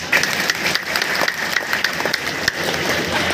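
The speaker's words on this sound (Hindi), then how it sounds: "बजाओ ताली।" A seated audience at a political meeting on pension schemes claps on request, a steady broadband patter of many hands lasting several seconds without a break, fairly loud and with no voices over it.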